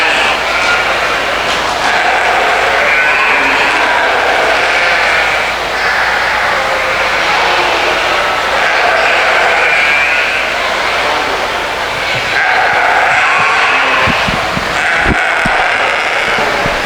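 Sheep bleat repeatedly in a busy show barn, with several overlapping calls rising over a loud, constant crowd hum and an announcer's voice; some knocking sounds come near the end.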